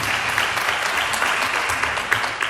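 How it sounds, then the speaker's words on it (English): Applause for a panel at a public lecture, a full and even wash of clapping from the audience that holds steady the whole time. "So a round of applause to the eminent panel"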